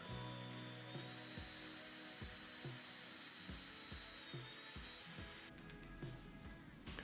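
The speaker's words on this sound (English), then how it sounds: "A trick to get away from hand twisting the whole branch is to use a drill with a hook." A power drill with a hook twists beading wire, whirring steadily with a faint high whine while rhythmic clicking pulses repeat about once a second, close and fairly quiet.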